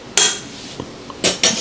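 Beetroot veggie burger mixture being set onto a dish, heard as a few clattering clinks of utensil against crockery with softer taps between, close and clear with no talking.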